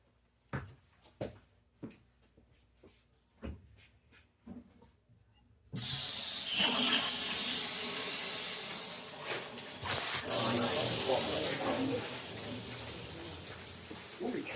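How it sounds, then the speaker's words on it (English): Water gushing and hissing loudly after the supply is turned back on during a shut-off valve replacement, a sudden steady rush following a few clicks and knocks of plumbing work. "let's turn on the water."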